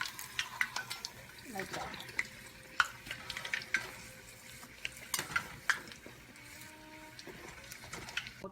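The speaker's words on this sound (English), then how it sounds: "So you just try to fry it from both the sides" Katori pastry cups frying in a pan, turned to cook both sides, give a steady crackle with scattered clinks and scrapes of a utensil; a voice speaks briefly over the cooking.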